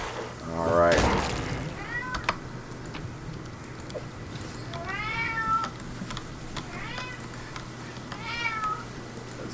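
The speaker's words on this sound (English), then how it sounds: "The cat is cheering on our victory." A house cat meows several times in drawn-out, rising calls, fairly close and clear, with a loud burst of noise near the start and faint clicking in the background.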